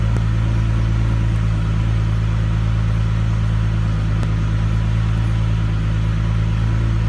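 A car engine idles in the background while an OBD2 diagnostic scanner is in use, giving a steady, loud low rumble and hum that holds without change throughout.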